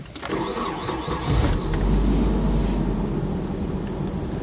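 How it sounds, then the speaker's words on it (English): A 1998 Nissan 240SX (S14 Kouki) with stock exhaust cranks and fires up, settling into a steady low idle rumble heard from close by inside the car, with no talking. "I'll go ahead and start it up so you can see what it sounds like from the inside of the car."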